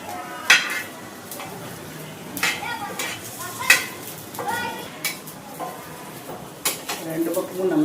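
Burger patties sizzling in a hot pan at home, with light scraping and clinking of a utensil against the pan at intervals and a soft steady fry underneath.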